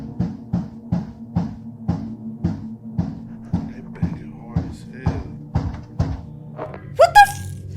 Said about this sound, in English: Outside of her window was a man banging his head against the glass over and over again.